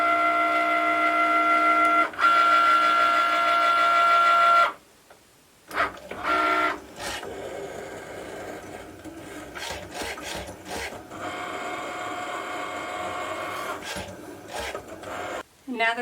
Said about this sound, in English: now I can press the blinking C button to start the cut.